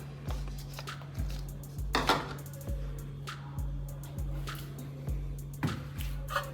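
Garlic, about 130 grams, tipped into a bowl and mixed in, giving a series of close, irregular clinks, soft thuds and wet squishes over a steady low hum.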